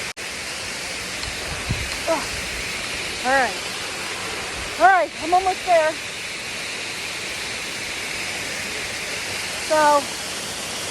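A waterfall on a rocky hiking trail roars as a constant, broad rushing wash close by, with a voice speaking briefly over it.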